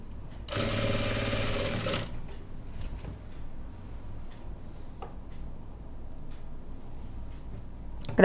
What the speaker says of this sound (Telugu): లూజ్ లేకుండా నీట్గా పైన క్లియర్ చేసుకుంటూ మీరు కుట్టు వేసుకోండి